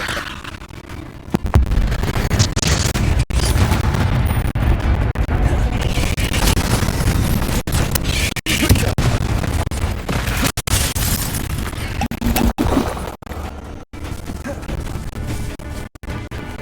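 Dense booming blasts and crackling impacts from fiery Confringo spells in the game Hogwarts Legacy, loud and continuous with sharp cuts between bursts, mixed with shouted voices.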